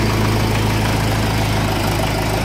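A Mahindra 575 XP Plus tractor engine idles nearby, a loud, steady low chug with an even, rapid knocking pulse and no pauses.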